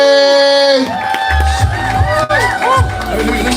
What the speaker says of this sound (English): you're already clapping, you're already snapping, you are giving it up for you, CJ